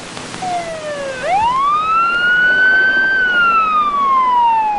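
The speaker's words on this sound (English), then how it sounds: "The ambulance with Officer Tim Jones inside sped to Ramsey Medical Center" A loud ambulance siren wailing close by in St. Paul, Minnesota, 1994, sweeping down then rising and holding a long tone before slowly falling, over faint traffic rumble.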